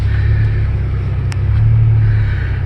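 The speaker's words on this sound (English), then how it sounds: "I can definitely hear the exhaust already, and I'm very happy" Inside the cabin of a 2015 BMW 535i with a muffler-deleted exhaust, a steady deep engine rumble drones continuously at moderate loudness, with no voices over it.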